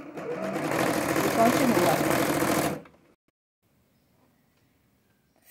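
A sewing machine runs steadily for nearly three seconds while stitching a six-point patchwork star for a Christmas mobile, finishing with a short backstitch, then it stops abruptly and a brief voice follows in near silence.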